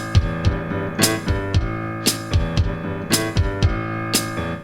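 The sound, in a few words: offbeat chick of a boom chick rhythm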